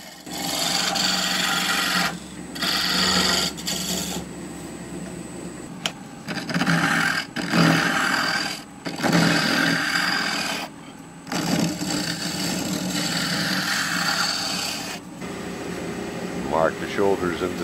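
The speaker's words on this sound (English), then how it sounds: "Rough the blank to round using the trusty 3/4-inch spindle roughing" A 3/4-inch spindle roughing gouge rounds a spinning wood blank on a lathe, giving repeated scraping, rasping bursts separated by short gaps as the tool makes successive passes, over a steady machine hum.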